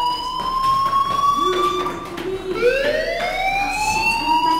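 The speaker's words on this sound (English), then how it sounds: "Hey, do you hear that fire alarm?" A fire alarm wailing in the video game Life is Strange, a loud electronic siren whose pitch sweeps and rises in repeated cycles, heard alone without talk.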